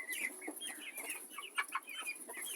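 Young chicks hatched from imported eggs cheep and cluck in a busy, overlapping flurry of short chirps inside a small pen, close by and without voices.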